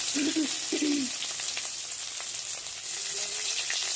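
Grated ginger and green chilli crackle and sizzle in hot oil in a pan, a steady close frying hiss with a few faint tonal clinks near the start.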